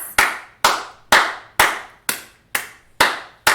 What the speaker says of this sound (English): I'm just going to hold for the clapping